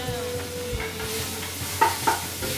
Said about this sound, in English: I add all the spices now so that they kind of can cook out too a little bit